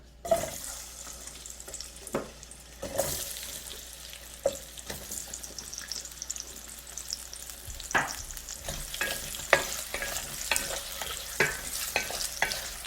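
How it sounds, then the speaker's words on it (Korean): Potatoes stir-frying in a spoonful of cooking oil, a soft steady sizzle under repeated clattering spoon scrapes and knocks against the pan, close and moderately quiet, without speech. "감자부터 먼저 한번 볶아 볼 텐데요"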